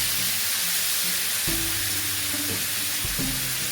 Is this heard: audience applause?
no